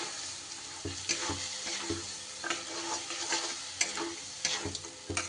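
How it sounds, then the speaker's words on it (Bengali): Spiced vegetarian masala with green peas sautés in a pan on raised heat, producing a continuous close sizzle broken by repeated scraping stirs and soft clinks at uneven intervals. "এইবার গ্যাসটা বাড়িয়ে মশলাটা একটু সময় আমি কষিয়ে নেব"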